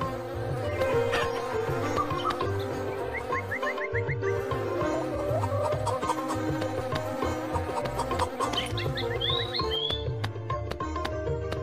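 Insects buzz around a honeycomb being cut in the Meena video game, a steady droning hum layered with electronic game music and sound effects, continuous and close throughout.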